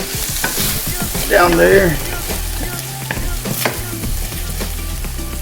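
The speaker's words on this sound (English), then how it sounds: "As the seafood is getting cooked up and it's starting to stick to that pan" Seafood frying in a pan, sizzling and starting to stick, with a steady broadband crackle, stirring scrapes and a short burst of nearby speech over the cooking.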